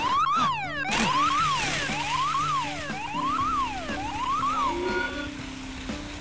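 A cartoon emergency vehicle's siren wails in repeated rising-and-falling sweeps, loud and continuous throughout, layered with a steady electronic tone and background music, with no talking.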